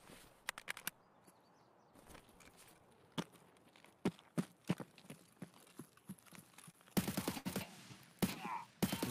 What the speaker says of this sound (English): Who's that shooting?